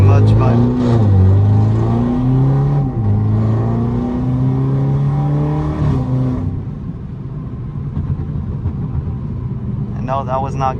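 A stage 2 tuned BMW 330i engine during ordinary night driving hums and rises in pitch through the gears, loud and steady from inside the car, while people talk over it.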